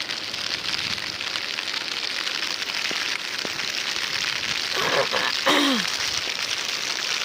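Steady rain falls during a monsoon trip in Wayanad, a dense continuous hiss that holds at the same level throughout, with a few brief voices rising over it near the end.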